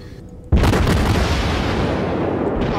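The Chikuma cruiser fires its guns in World of Warships, a single heavy boom bursting in loud and close after a short lull, then a long rumbling roar that stays strong to the end.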